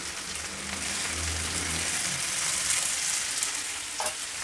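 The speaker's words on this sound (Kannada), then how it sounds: "ಒಂದು ಟೊಮೆಟೊ ಸಣ್ಣ ಹೆಚ್ಚಿಟ್ಕೊಂಡು ಹಾಕ್ತಾ ಇದ್ದೀನಿ" Chopped tomato dropped into a hot pan for jowar flour upma sizzles loudly and steadily, a bright continuous frying hiss with a low thump early on and a few stirring clicks near the end.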